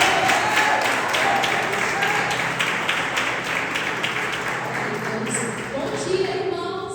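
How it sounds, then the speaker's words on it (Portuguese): A church congregation claps during a Sunday morning service, a steady broad wash of hands that fills the space and slowly thins over several seconds, with voices mixed in underneath. "Aplauda o Senhor Jesus."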